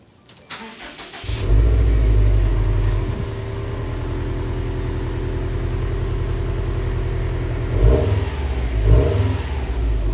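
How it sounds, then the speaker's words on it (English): A Subaru WRX STI on its stock exhaust starts and idles with a steady, fairly quiet rumble, then gives two short revs near the end, close and alone. "Let me give you a little quick clip of the stock exhaust"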